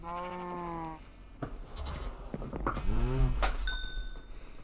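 Goats bleat in a video game, clear and close, several calls in a row with some game effects around them.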